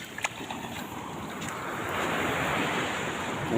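Ocean waves wash onto the shore in a steady broadband roar that builds slightly. Gusts of wind buffet the microphone.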